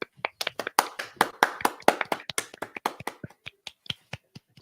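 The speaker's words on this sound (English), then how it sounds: "Let's clap for my mother joining." Sharp, close hand claps from podcast hosts, irregular bursts of individual claps in quick succession that thin out toward the end, heard alone in a quiet room.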